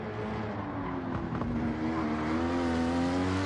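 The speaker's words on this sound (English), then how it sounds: "the Supra does sound really nice" A Toyota Supra in a racing video game holds a steady, smooth engine note that rises slightly in pitch, loud and continuous with a harmonic hum.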